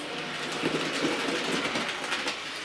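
A Bachmann A1 model locomotive runs on Peco track through a fiddle-yard bend, giving a steady, faint rolling hum with light clicking over the rail joints throughout.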